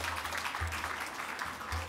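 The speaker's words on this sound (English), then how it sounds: "I want to give them a round of applause to start" Steady audience applause at a garden brunch honoring military members, a continuous wash of clapping heard at moderate distance through the short stretch, with a low hum beneath.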